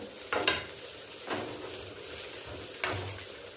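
Chopped onion, ginger, garlic, green chillies and tomato fry lightly in a pan, a soft low sizzle broken by three distinct scraping stirs of a spoon against the pan.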